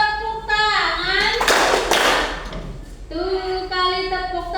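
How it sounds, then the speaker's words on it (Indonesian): A class of children in an Islamic religious education lesson claps hands together in a short burst, set between stretches of young voices chanting or singing. "2 kali tepuk tangan"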